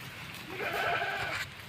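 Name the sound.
goats bleating on a farm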